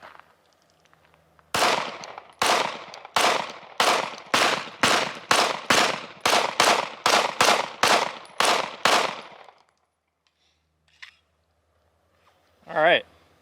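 Fourteen loud shots from a Stoeger STR-9 9mm-style striker pistol fired at a steady, evenly spaced pace, followed by quiet and a brief voice at the end.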